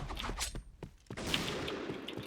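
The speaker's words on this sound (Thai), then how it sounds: "เพื่อนยิงอยู่" A rapid burst of gunshots from the online shooter game Point Blank, crackling shots in quick succession followed by a denser stretch of firing, close and fairly loud.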